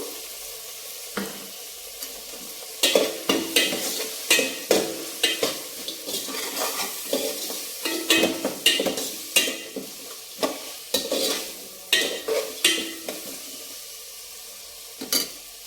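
Ginger garlic paste fries with softened ingredients in a pot for bagara rice as a spoon stirs briskly, a dense run of scraping and clattering strokes over a low, steady sizzle.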